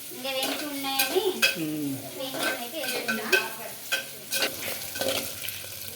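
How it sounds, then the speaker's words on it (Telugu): A tempering of peanuts and spices fries and sizzles in a pan for rice rava upma, with a spoon stirring and scraping the pan in a steady rhythm close up, and no talking. "వేసుకున్నాక ఇలా ఒకసారి కలుపుకొని వేయించి వేయించిన పల్లీలే కదా"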